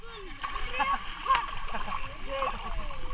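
Water splashes and gurgles around people swimming in the sea in Albay while hunting jellyfish, with light, uneven slaps under close, chattering voices, including a child's.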